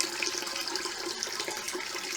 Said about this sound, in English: So I've got just 2 litres of water,